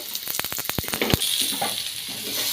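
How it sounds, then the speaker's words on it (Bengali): Potatoes and carrots fry in hot oil with a steady, bright sizzle, broken early on by a quick run of sharp scraping and stirring knocks, then settling into an even hiss. "তো ভেজে নিচ্ছি আলুগুলোকে"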